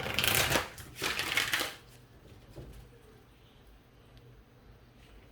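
Tarot cards riffled in a close, crisp shuffle, two quick bursts of rapid papery flutter in the first couple of seconds, followed by near-silence.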